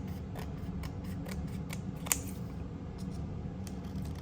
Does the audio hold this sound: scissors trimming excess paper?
yes